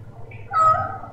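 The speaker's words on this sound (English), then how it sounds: "That's my cat, Fiora." Fiora, a pet house cat, gives a single close, loud meow that rises and trails off, with faint room noise underneath.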